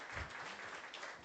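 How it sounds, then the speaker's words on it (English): A crowd at a talks event applauds, giving a short, steady burst of clapping heard from a moderate distance. "Can we give them a round of applause?"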